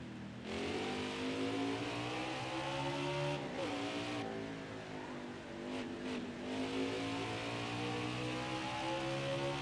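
A NASCAR stock car engine drones on a warm-up lap at the Indy road course in the NASCAR Heat 5 game, a loud steady roar with gear-shift dips and revs rising again, continuous and close.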